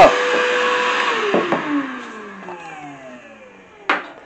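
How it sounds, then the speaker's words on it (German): A cordless Einhell TE-VC 18/10 wet and dry vacuum cleaner spinning down after being switched off, its motor whine falling steadily in pitch, with a few knocks and a short sharp click near the end. "Ich habe extra einen Staubsauger errichtet."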